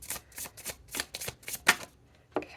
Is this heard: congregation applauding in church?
no